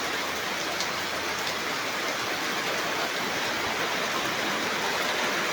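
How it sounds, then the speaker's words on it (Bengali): Light drizzling rain falls steadily outdoors, a soft even hiss of drops on surfaces continuing without a break for several seconds, with no voices. "ঝিমঝিম বৃষ্টি"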